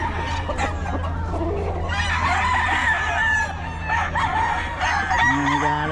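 A rooster at a fowl market in Bocaue crows loudly and close by, with clucking from other chickens around it and busy background noise.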